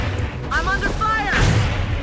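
Gunfire in the turn-based strategy game X-Com: Enemy Unknown, a loud burst of booming shots with a tonal whine running through the middle, steady and close throughout.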